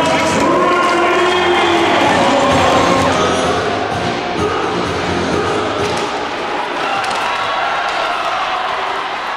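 A packed ice hockey arena crowd roars and cheers for a returning Basingstoke Bison player during a game against the Hull Pirates, a loud sustained swell that slowly eases, with a commentator's voice over it.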